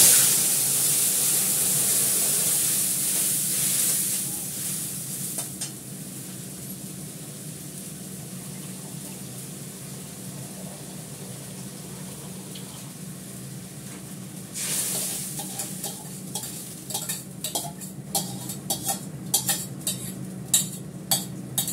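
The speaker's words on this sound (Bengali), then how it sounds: "এবার হালকা করে জল দিয়ে ডালটা দিয়ে দেবো" Water and dal hitting a hot pan of cumin and dried chillies give a strong hiss at first, which drops to a low simmer, then a utensil stirs with repeated scraping clinks against the pan.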